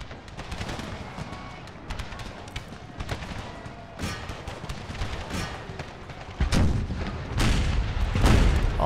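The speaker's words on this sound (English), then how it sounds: "All howitzers pour fire down the right and the center." Howitzer fire in the video game Empire: Total War: heavy artillery booms fire repeatedly amid a dense battle din, with louder, closer blasts near the end and faint voices mixed in.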